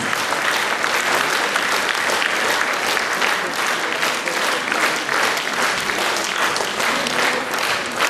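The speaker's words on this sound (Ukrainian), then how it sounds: "Ручки, оплески Наталі Мехедовій." A concert audience at a creative evening in Hrebinka applauding a performer, dense and sustained clapping at a steady loud level with a faint crowd murmur beneath, continuing throughout.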